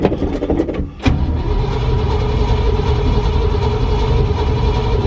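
A car engine starts after the key is turned, with brief cranking bursts at first, then settles into a loud, steady, rumbling run close by.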